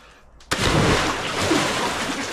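A wave crashes and splashes over water, a sudden loud broadband surge after a short quiet start, then a sustained rushing wash that fills the rest of the moment.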